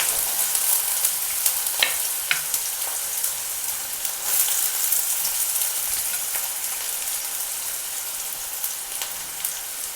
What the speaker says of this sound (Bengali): প্রথমেই আমি গরম তেলে লঙ্কাগুলো ছেড়ে ফেললাম।